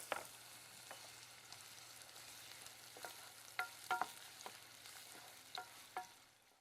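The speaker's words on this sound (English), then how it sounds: "I've put a little oil into a saucepan and I'm going to fry the onions until they go golden" Onions fry in a little oil in a saucepan with a faint, soft sizzle, punctuated by scattered spoon taps and stirring knocks.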